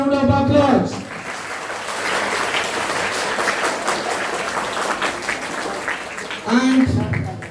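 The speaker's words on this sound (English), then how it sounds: "Big round of applause" A school audience at a Foundation Day celebration breaks into steady, sustained applause lasting several seconds, with a voice speaking briefly just before and again as the clapping fades.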